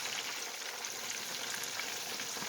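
Chicken pieces in coating frying in oil in a pot, a steady dense sizzle with fine crackling that stays even and close throughout, no voices.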